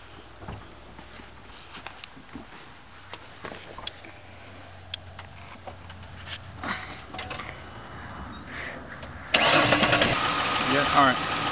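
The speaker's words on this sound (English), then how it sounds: "now that the engine's running" Faint voices and small clicks come first, then a car engine cranks and catches near the end after an oil change, settling into a loud, steady running rumble.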